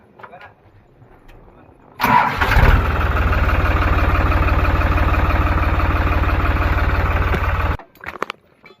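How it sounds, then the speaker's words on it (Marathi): A tractor engine cranks and catches at once, then runs at a loud, steady rumble for several seconds before cutting off abruptly. "करू ट्रॅक्टर चालू"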